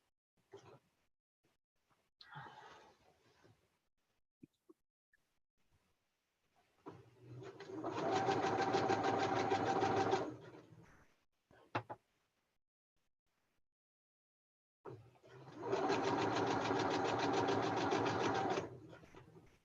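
A domestic sewing machine stitches a 6-inch quilt border in two long steady runs of rapid, even clatter, separated by quiet pauses with small handling clicks and a few soft sounds earlier.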